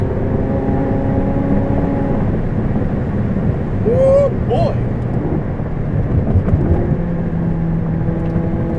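A 2016 McLaren 675LT small-bore V8 revs with a steady, rising engine drone inside the cabin, a brief higher whine sweeping up midway while a man exclaims over the sound.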